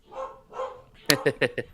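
A voice mimics a dog, giving a few short, sharp barks in quick succession after two drawn-out vocal sounds.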